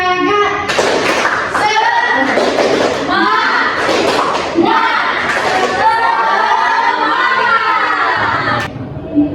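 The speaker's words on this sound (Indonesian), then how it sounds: "ayo semuanya bangun, kita tepuk semangat dulu" Classroom of children doing a group clapping cheer together, a dense burst of claps, thumps and shouting voices filling about eight seconds before stopping abruptly.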